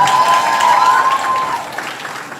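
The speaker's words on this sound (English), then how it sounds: "Give them a round of applause." A Grade 11 graduation audience at Discovery Bay High School claps loudly at first, then the applause thins and fades, with a whistle-like tone riding over the start.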